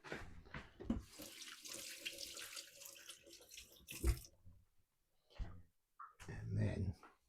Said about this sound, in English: I quickly wash my hands